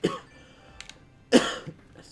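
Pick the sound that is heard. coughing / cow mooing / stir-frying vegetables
coughing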